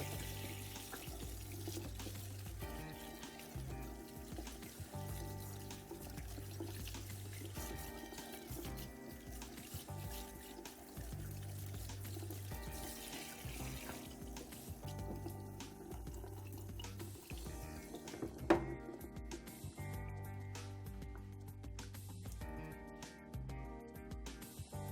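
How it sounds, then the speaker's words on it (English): Tap water runs steadily into a sink while a hair system is rinsed, a soft continuous splashing with occasional drips and shifts in flow, quiet and close, with no voices. "Turn the water back on."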